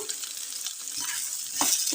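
Okra and potatoes sizzle and crackle in hot oil, a continuous frying hiss with soft stirring scrapes, growing slightly louder toward the end.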